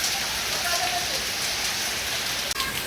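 Rain pours steadily in cold weather, a dense, even hiss close by that runs without pause.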